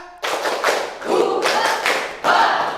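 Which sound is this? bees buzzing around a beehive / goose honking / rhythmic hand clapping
rhythmic hand clapping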